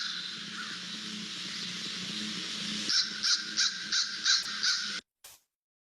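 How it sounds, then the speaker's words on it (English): A series of loud, harsh crow caws, about six in a steady rhythm, rising over a constant background hiss, then a brief click and silence. "So the American crow is who's making all of that noise."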